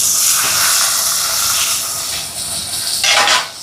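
Hot oil hisses steadily as shallots sauté with mustard seeds, fennel and green chili, a close, continuous sizzle that swells into a brief louder burst near the end.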